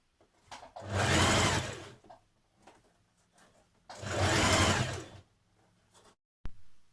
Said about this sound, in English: Then you're going to stitch your bias tape over the seam where you have just attached your armhole here.